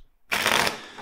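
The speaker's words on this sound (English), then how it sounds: "Let's shuffle the deck four times first." A single quick riffle of a tarot card deck, a crisp burst of papery flutter lasting about half a second after brief quiet.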